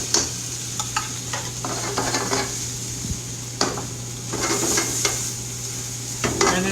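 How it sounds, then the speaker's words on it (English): Tomato paste sizzles in a dry pan while a utensil scrapes and stirs it in repeated strokes, with a steady low hum behind. "You take your tomato paste and put it in a dry pan."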